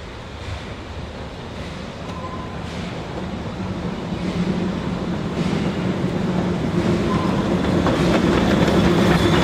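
The Puffing Billy steam train rumbles past through a forest with a steady low roar that grows gradually louder, faint rhythmic clatter of wheels on rails underneath.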